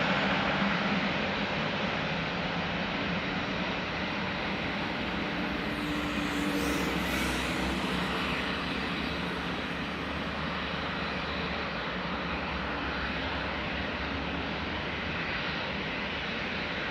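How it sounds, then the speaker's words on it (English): A KLM Boeing 737-900 in SkyTeam livery passes at Amsterdam Schiphol, its jet engines producing a loud, continuous broadband roar with a brief whining sweep midway, close by and with no voices. "that's the 737-900 in the SkyTeam livery from KLM"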